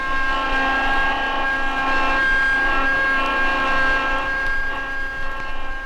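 A 9-cylinder hydraulic pump running at 1,800 RPM gives a steady, loud mechanical whine with layered tonal hum and broadband noise. It holds constant and is heard alone.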